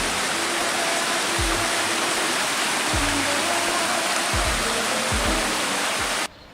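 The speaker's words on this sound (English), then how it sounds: "I could definitely hear some water flowing" Water rushes in a steady, loud broadband roar near Bermejo Waterfalls on a rainy forest trail in Santa Fe, Panama, with a few low thumps in the background and no talk.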